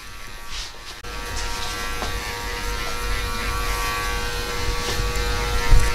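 Electric hair clippers buzz steadily and close up while working a low drop fade on a client's head, a continuous mains-hum drone that holds level for the whole stretch with a slight swell near the end.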